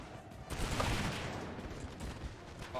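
Distant, rumbling musket volleys roll through a Napoleonic battle in a video game, a dense wash of massed fire that swells briefly and then holds steady.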